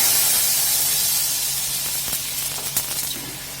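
Spices sizzling and frying in hot oil in a home kitchen pan after taro has been fried, a steady loud hiss with a few brief crackles and pops near the end.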